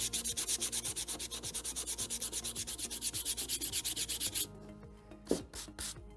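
Sandpaper rubbed by hand over a 3D printed PLA Halo Needler prop, a fast regular back-and-forth scratching rhythm of about six strokes per second, close and clear, stopping abruptly before a few faint handling scuffs.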